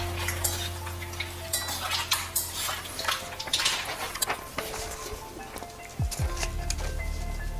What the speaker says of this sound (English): Stir it one more time and put the lid on.